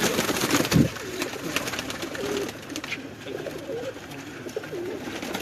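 Pigeons at a Lahore loft coo softly in low, rolling calls, several birds overlapping nearby with faint background noise and a brief thump near the start.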